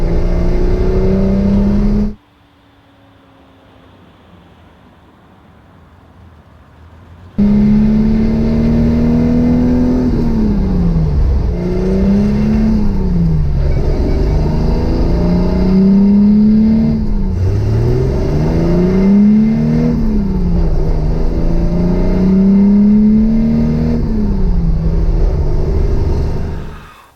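A home-built Datsun 240Z accelerates hard through several gears, its engine note climbing and dropping with each shift after a short quiet lull, loud and close from inside the car.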